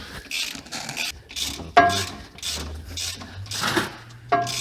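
A hand ratchet tightens a bolt on the reaction rod of a Chrysler 300M, making short bursts of close clicking strokes with brief pauses in between.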